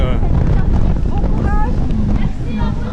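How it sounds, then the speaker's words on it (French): Strong wind gusts buffet the microphone at a Disney park's World of Frozen area as a storm rolls in, a loud continuous rumble with faint talk underneath. "Le vent se lève de ouf."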